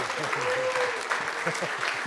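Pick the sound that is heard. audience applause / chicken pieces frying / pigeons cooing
audience applause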